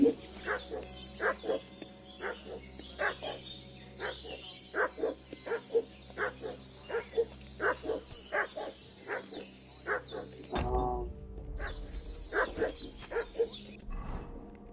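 A dog barks in a steady series of sharp, regular woofs at middle distance while making a fuss, and then stops as a louder rustling noise takes over near the end.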